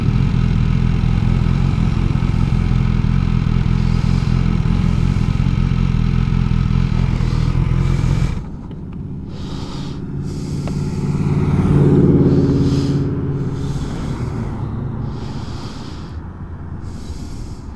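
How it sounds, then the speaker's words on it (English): A Ducati and an HP Sports motorcycle with a carbon fiber body idle at traffic lights on Arthur's Creek Road in Victoria, Australia. A heavy, steady engine rumble drops abruptly to a quieter idle, which swells briefly and then fades. "Few bikes caught at the lights."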